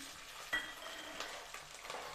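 Chopped green chillies hit hot oil in a pan, giving a faint, steady sizzle with a brief sharper crackle near the start and light stirring scrapes throughout.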